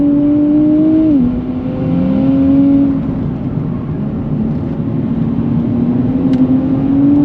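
A 2024 Nissan Z Nismo sports car's engine revs on throttle from inside the cabin, the pitch rising then dipping and climbing again in a loud continuous drone, with a brief lift near the one-second mark.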